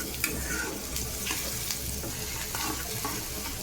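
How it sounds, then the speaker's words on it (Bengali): Onions frying in oil in a pan for a shrimp and lotir torkari curry, a steady crackling sizzle close by with occasional soft clinks, no talking. "পেঁয়াজ আর তেল দিয়ে পেঁয়াজটাকে ভালো করে লাল লাল করে ভেজে নেব"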